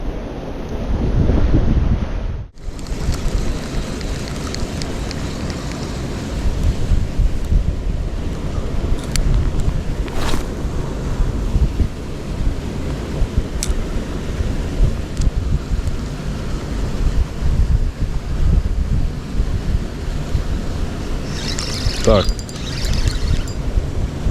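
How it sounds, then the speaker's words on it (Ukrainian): Strong wind buffets the microphone over a steady roar of rushing water from a sluice, loud and continuous throughout, with a brief lull near the start. "дує сильний вітер, ще й шумить шлюз"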